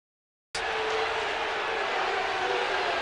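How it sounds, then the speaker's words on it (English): Hockey arena crowd at a Steelheads game booing, a dense roar that starts abruptly after a moment of silence and holds steady and loud to the end. "Fans booing as the Steelheads player had bumped the net."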